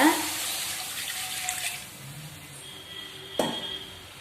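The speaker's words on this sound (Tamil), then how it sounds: "இப்போ நம்ம கடாயில் கொஞ்சமாக தண்ணி சேர்த்துக்கலாங்க." Water is poured into a nonstick kadai while making halwa from leftover rice, a short splashing pour that fades within a couple of seconds, followed by quiet kitchen ambience and a brief clatter.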